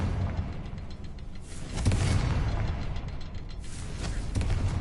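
A Confringo fire spell bursts in Hogwarts Legacy, a dense rumbling explosion with two sharp blasts swelling out of continuous roaring noise, loud and close, with no talk.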